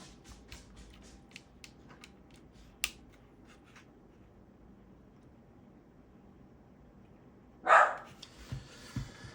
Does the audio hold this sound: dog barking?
yes